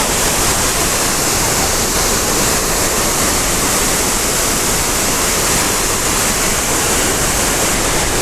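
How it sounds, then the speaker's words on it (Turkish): Tortum waterfall in Erzurum, Turkey, flowing wide and heard from close by: a loud, steady, full roar of falling water that stays unbroken throughout. "Şelaleye biraz daha yaklaştık."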